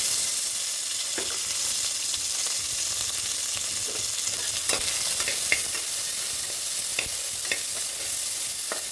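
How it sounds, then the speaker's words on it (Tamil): Tomatoes sizzle steadily in a pan of drumstick and potato sambar, a close, even frying hiss broken by scattered clicks and scrapes of a spoon stirring, with no talking. "இப்போ வந்து தக்காளி பழத்தை போட்டுக்கலாம்"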